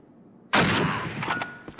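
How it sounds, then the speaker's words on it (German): A single loud gunshot in Call of Duty 1 breaks the near silence with a sharp blast, then a rumbling tail and crackling echo that fades over the next second. "Mit einem Schuss erwischt"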